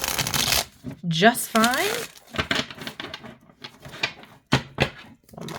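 A Beetlejuice tarot card deck is shuffled by hand in quick riffling bursts and soft card slaps, close up, with a person talking in between.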